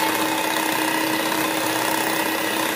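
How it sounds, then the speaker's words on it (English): Electric mixer whisking egg white for almond cake batter on low speed, giving a steady, dense whirring buzz with a constant motor tone, close and unbroken. "On low speed as usual, we are going to whisk this"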